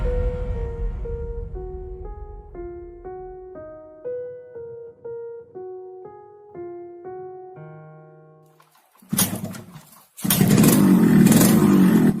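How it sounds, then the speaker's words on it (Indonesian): A few seconds of plinking melodic tones, then the two-stroke engine of a Yamaha RX King motorcycle bursts in nearby, revving loudly with a raspy, buzzing roar. "Ini adalah RX King dengan mesin 2 taknya yang khas."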